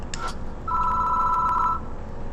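A telephone in the Spirit Hunter NG video game gives one clear electronic trill lasting about a second after a brief chirp, ringing alone over a faint background hum.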